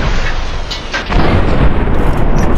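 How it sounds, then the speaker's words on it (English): Dynamite blasts against robots, including a Hardened Mr. Gutsy, in the video game Fallout: New Vegas, loud booming rumbles that swell and roll on continuously, with a heavier surge midway. "I'm just gonna throw some dynamite at them"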